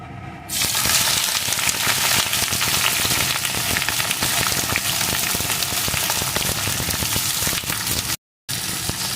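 Chopped ivy gourd hits hot mustard oil with a sudden loud, dense sizzle that holds steady and close, broken only by a brief silent gap near the end.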